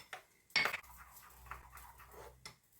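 A spoon stirs garlic yogurt with salt and dried mint in a bowl, giving a sharp clink against the dish followed by faint scraping and light taps, quiet and close.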